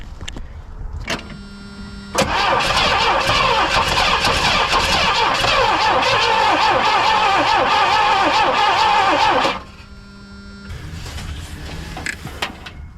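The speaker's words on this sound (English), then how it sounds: "And I was looking in there as it cranked over." A 1978 Pontiac Trans Am engine cranks over with a whirring starter, then runs loud and steady for about seven seconds before cutting off, leaving quieter mechanical clicks and ticking around it.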